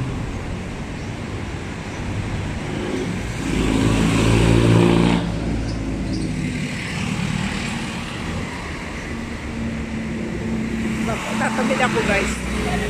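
A jeepney passing in city traffic from Baclaran, with a broad engine rumble that swells around the middle and then settles back into steady road noise, close by under ongoing chatter.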